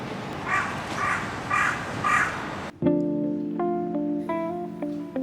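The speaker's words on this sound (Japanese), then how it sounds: "駅前で最も元気なのはカラスだった。" Several crow caws repeat in a steady rhythm amid outdoor street noise near Nishiarai Station in Adachi, Tokyo, then give way to a sustained tonal hum with faint chimes.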